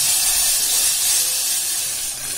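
Bay leaves and curry leaves dropped into hot oil in a cooking pot, giving a loud, steady, close sizzling hiss that runs on without a break.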